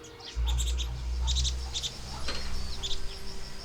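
Birds sing in the countryside in the early morning, with scattered high chirps and short trills at a moderate distance over a low hum and faint rustling.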